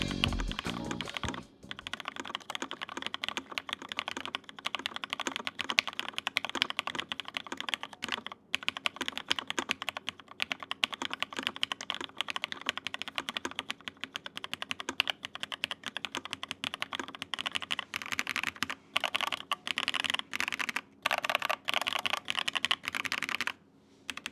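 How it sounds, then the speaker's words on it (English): Steady typing on a mechanical keyboard with Cherry MX Black switches, a dense run of close, clacky keystrokes with a few brief pauses, no voices. "I think Cherry MX Blacks just sound better when there's more case for them to resonate with"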